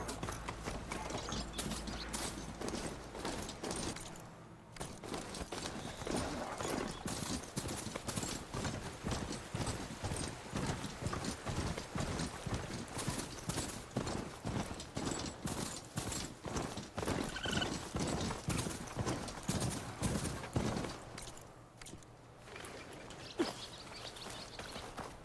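Horse hooves clip-clop steadily and loudly on the ground in Horizon Forbidden West as the mount trots, with mechanical clicking and gear-like game sounds mixed in and a brief whinny.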